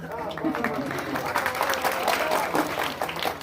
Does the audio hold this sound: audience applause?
yes